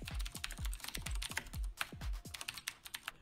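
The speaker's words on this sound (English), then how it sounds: "The keyboard is incredibly loud" Fast typing on a loud mechanical keyboard, crisp key clacks in quick irregular bursts with sharp low thumps as keys bottom out, close and alone with no voices.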